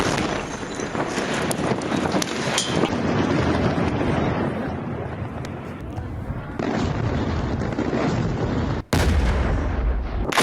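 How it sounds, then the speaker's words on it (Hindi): Heavy, continuous rumbling booms and blasts from bombing and shelling of a Lebanese town, with rough wind buffeting the microphone throughout. The roar runs dense and loud, broken by a sudden cut near the end. "अल-कासिर शहर पर आईडीएफ की तरफ से बम दागे गए।"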